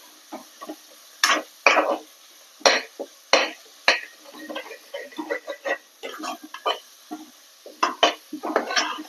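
Mint masala being sautéed in a pan for a hotel-style salna, heard as a spoon scraping and tapping against the pan in irregular close clinks and knocks with quiet gaps.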